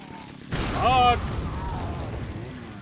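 A single sudden explosion booms in modded Resident Evil 4 gameplay, a loud broadband blast that tails off into a lingering rumble while a voice exclaims briefly over it.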